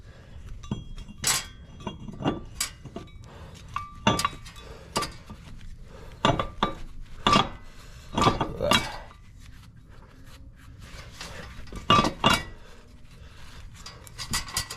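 Metal parts clink and clank sharply in scattered knocks as a flywheel is handled and fitted on a BMW E36 during a manual transmission swap, close up with quiet gaps between hits.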